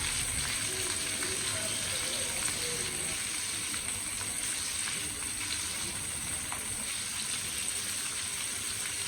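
Pomfret fish frying in hot oil with curry leaves and green chilies, a steady, dense close sizzle with crackling throughout and faint talk now and then.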